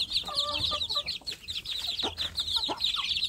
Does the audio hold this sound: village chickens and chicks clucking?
yes